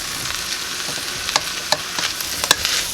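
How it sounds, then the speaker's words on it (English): Peas and onions stirred in a pan with butter and flour, a steady soft sizzle broken by several sharp scraping clicks of the spoon against the pan, close and moderately loud, with no talking. "we're just going to stir this, make sure that they're coated really well"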